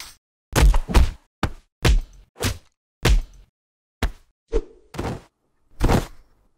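A string of about ten hard, punchy thwacks, each short and heavy, spaced unevenly with silence between them, like blows landing.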